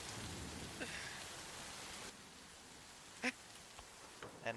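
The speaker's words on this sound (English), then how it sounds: "And as it begins to rain," Rain falls as a quiet, even hiss for about two seconds and then thins out, with a few faint isolated taps and knocks after that.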